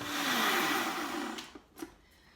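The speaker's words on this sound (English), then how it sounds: "So I love this Ninja blender here, mixer." A Ninja blender mixing raspberry vinaigrette dressing whirs loudly and then spins down over about a second, followed by a couple of soft knocks.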